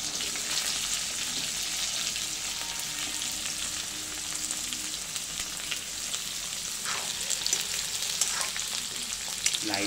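Onions, cumin seeds and about four ladles of oil fry in a pan, giving a steady, dense sizzle that crackles evenly throughout with no talking.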